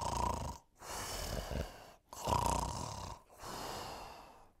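A voice imitating the loud snores of a clumsy unicorn, likened to a jumbo jet, three long rasping snoring breaths separated by short silent pauses, close and breathy.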